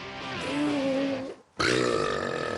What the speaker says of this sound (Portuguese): fortes arrotos